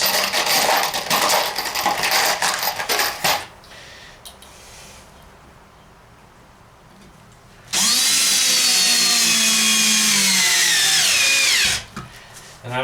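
A power drill drives screws slowly into wood while building a front bench seat for a DIY travel trailer, with one long steady whirring run near the end after quieter handling sounds.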